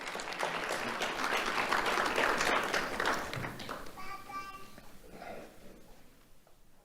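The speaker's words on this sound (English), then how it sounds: "Let's have a round of applause for Caitlin Daniels" An audience applauds at a community awards ceremony, a full round of clapping that swells and then fades, with a voice and some talk emerging as it dies down.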